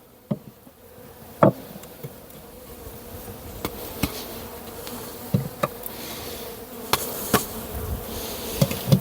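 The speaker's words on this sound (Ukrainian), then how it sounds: "Ну так, вся бджола вона вже не в гнізді, всі бджолочки працюють." Honeybees buzz around their hives outdoors, a steady soft hum with occasional louder bees darting close past the microphone.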